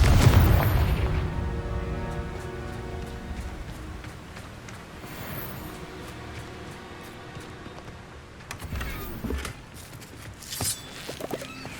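Spell explosions in the Hogwarts Legacy video game: a loud booming blast opens, then a long ringing, reverberant decay with scattered crackles and a few smaller pops near the end.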